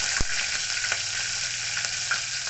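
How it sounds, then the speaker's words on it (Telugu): Cinnamon, bay leaf and green chillies frying in oil for country chicken curry, a brief steady sizzle with a sharp tap at the start and faint stirring clicks. "దాల్చిన చెక్క, పలావాకు వేసుకోవాలి. పచ్చిమిర్చి,"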